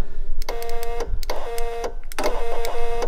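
A faulty car power window motor whirs and whines in three short bursts, with clicks between them, heard up close, without raising or lowering the window.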